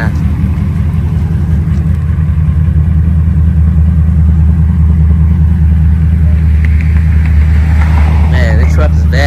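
A supercharged Ford Lightning pickup drives along on a test drive, its engine giving a loud, steady, close rumble throughout, with a brief higher whine near the end.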